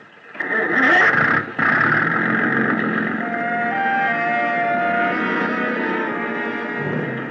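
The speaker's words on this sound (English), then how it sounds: "The big gas engine took over where the wind dropped us, and Captain Granger stood at his wheel" A boat's big gas engine cranks and catches with a sudden loud burst, stutters briefly, then settles into a steady, droning run that continues evenly to the end.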